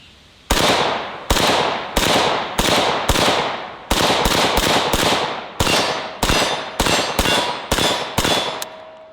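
An AK-74 rifle fires 5.45 ammunition in about fifteen sharp, loud single shots. The shots come in a quick, slightly uneven rhythm, each followed by a short ringing decay, close and with no talk.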